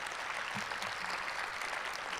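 A conference lunch audience applauds a school team from Mount Pleasant: a steady, fairly faint wash of clapping from a large room, with no voices.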